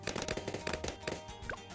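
A Monkey Buccaneer cannon ship in the Bloons tower defense game fires in a rapid, steady rhythm of repeated cannon pops, dense and busy amid other game effects.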